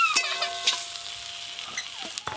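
Eggplant pieces frying in oil in a pan: a close, continuous sizzle with a few scraping stirs and sharp clinks of a utensil against the metal, and no voices.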